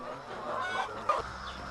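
Young chickens on a farm cluck in a couple of short, soft calls over a quiet, steady farmyard background.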